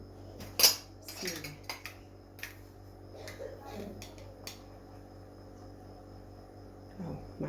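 Metal spoons and cutlery clink and rattle in a few sharp bursts up close in a kitchen, with scattered lighter taps afterward over a steady electrical hum.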